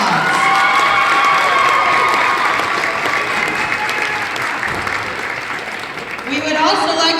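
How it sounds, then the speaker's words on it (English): Crowd applause and cheering at a high school volleyball game in a gym, sustained loud clapping with some shouts, fading slightly before an announcer's voice comes in near the end. "Big round of applause."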